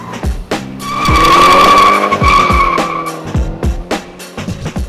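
A 2015 Mini Cooper S cornering hard on a test track, its tyres squealing in a loud sustained howl while the engine note rises and falls through the turns, close and dominant.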